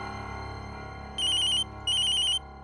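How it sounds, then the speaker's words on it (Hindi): A telephone rings in a household drama scene, sounding two separate electronic ringtone bursts, each about half a second long, clear and fairly loud over a quiet room hum. "प्रमिला बेन का फोन।"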